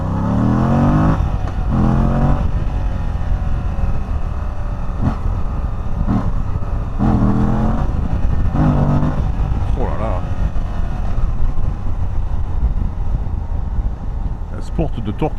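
A Moto Guzzi V85TT motorcycle engine runs loud and close, its throbbing note rising and falling in several revving pulls, with someone talking over it.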